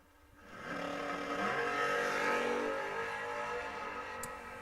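Drag race cars launch side by side at a memorial race, one a Camaro, engines swelling quickly into a loud, sustained roar that stays strong before easing slightly as they pull away.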